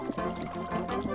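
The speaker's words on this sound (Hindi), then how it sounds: "संभल कर साइमन, तुम पानी गिरा रहे हो।" Water sloshes and spills from a container carried by cartoon rabbit characters, a continuous splashing pour, close and fairly loud, with no talk over it.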